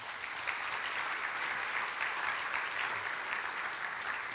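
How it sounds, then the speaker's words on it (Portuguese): Congregation applause at a church service, dense and even clapping from a crowd sustained for several seconds at steady volume without voices on top. "Você pode dar um aplauso a ele?"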